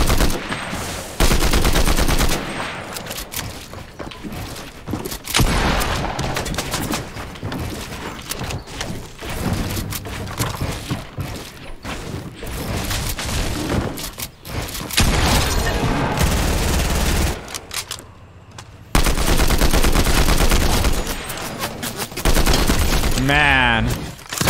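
Combat Assault Rifle fire in Fortnite: rapid, loud bursts of automatic gunfire repeat across the stretch, with explosive thumps and brief gaps, while a player talks over the shooting.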